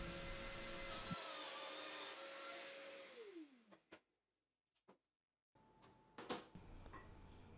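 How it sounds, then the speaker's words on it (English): Festool Domino joiner plunge-cutting mortises in baluster table legs clamped to a workbench: a loud steady motor whine winds down, a few sharp clicks and knocks follow, a brief silence, then the motor starts again. "I then secured the legs to my workbench and plunged my domino to cut the mating mortises."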